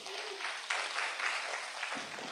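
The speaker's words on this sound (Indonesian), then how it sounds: "Tepuk tangan Bapak Ibu untuk semuanya." An audience at a corporate soft-skills tech talk gives a brief, dense burst of clapping that stops abruptly.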